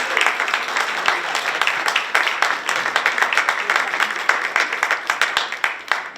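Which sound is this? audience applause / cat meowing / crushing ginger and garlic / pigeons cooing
audience applause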